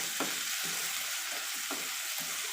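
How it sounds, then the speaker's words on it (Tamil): Diced potatoes sizzle steadily as they are stir-fried in a pan for a Tamil-style potato fry, with a constant frying hiss and occasional scraping turns of the spatula. "இந்த மாதிரி ஒரு 5 நிமிஷம் நம்ம நல்லா பெரட்டி விட்டு எடுத்துக்கலாம்"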